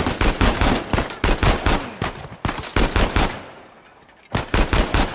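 Rapid bursts of automatic gunfire in Uncharted: Legacy of Thieves Collection crackle loudly in repeated volleys, pausing briefly near the end before another burst.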